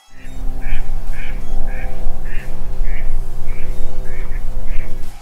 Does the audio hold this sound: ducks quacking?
yes